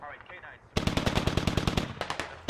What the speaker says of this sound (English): BTR throwing rounds at an MG that was in the building